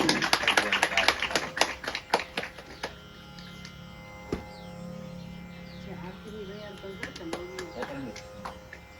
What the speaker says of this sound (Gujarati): તાળીઓથી વધાવશું